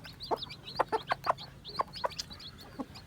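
Aseel chickens, a hen with her eleven chicks, give a series of short clucks and higher chick peeps close by, about a dozen bursts spread irregularly over a few seconds with no talking.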